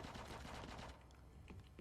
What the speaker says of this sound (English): You can hear the weapons going off already.